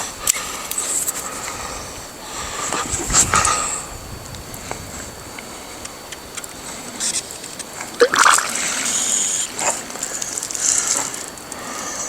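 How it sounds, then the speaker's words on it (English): Water pumped out to wet pig feed, splashing and trickling with irregular sloshes and drips, loud and close outdoors. "We'll see if we can get some water out of it to moisten up some of this feed."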